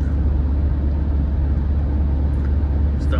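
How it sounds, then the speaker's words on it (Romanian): The combustion engine of a Dacia Jogger Hybrid runs while the car drives at speed, a loud, steady low hum mixed with road and cabin noise. "Asta face motorul termic."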